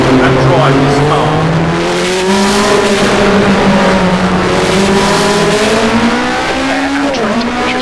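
In the racing simulator rFactor 2, a race car's engine roars steadily through repeated upshifts and pitch climbs, with a brief dip and recovery near the end, loud and close, and a voice speaks faintly beneath it.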